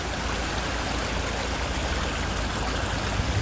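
Floodwater rushing steadily after a heavy downpour that washed out a road and carried stones, a dense continuous roar of flowing water, loud and close throughout.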